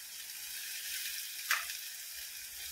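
Food sautés in hot oil in a pan for a spicy vegetable bhaji, giving a steady, soft, close hiss with one brief sharp crackle partway through.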